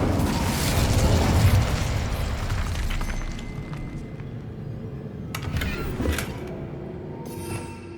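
Bombarda and Confringo spell blasts in Hogwarts Legacy: a loud, rumbling explosion that slowly fades into lingering debris noise, followed by a few sharper crackling bursts near the end.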